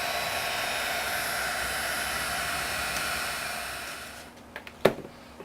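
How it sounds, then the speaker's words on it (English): A heat tool blows a steady, close roar of hot air over embossing powder on a wedding craft card for about four seconds, then cuts off, leaving a few small handling clicks and knocks. "get my heat tool and let's get started here."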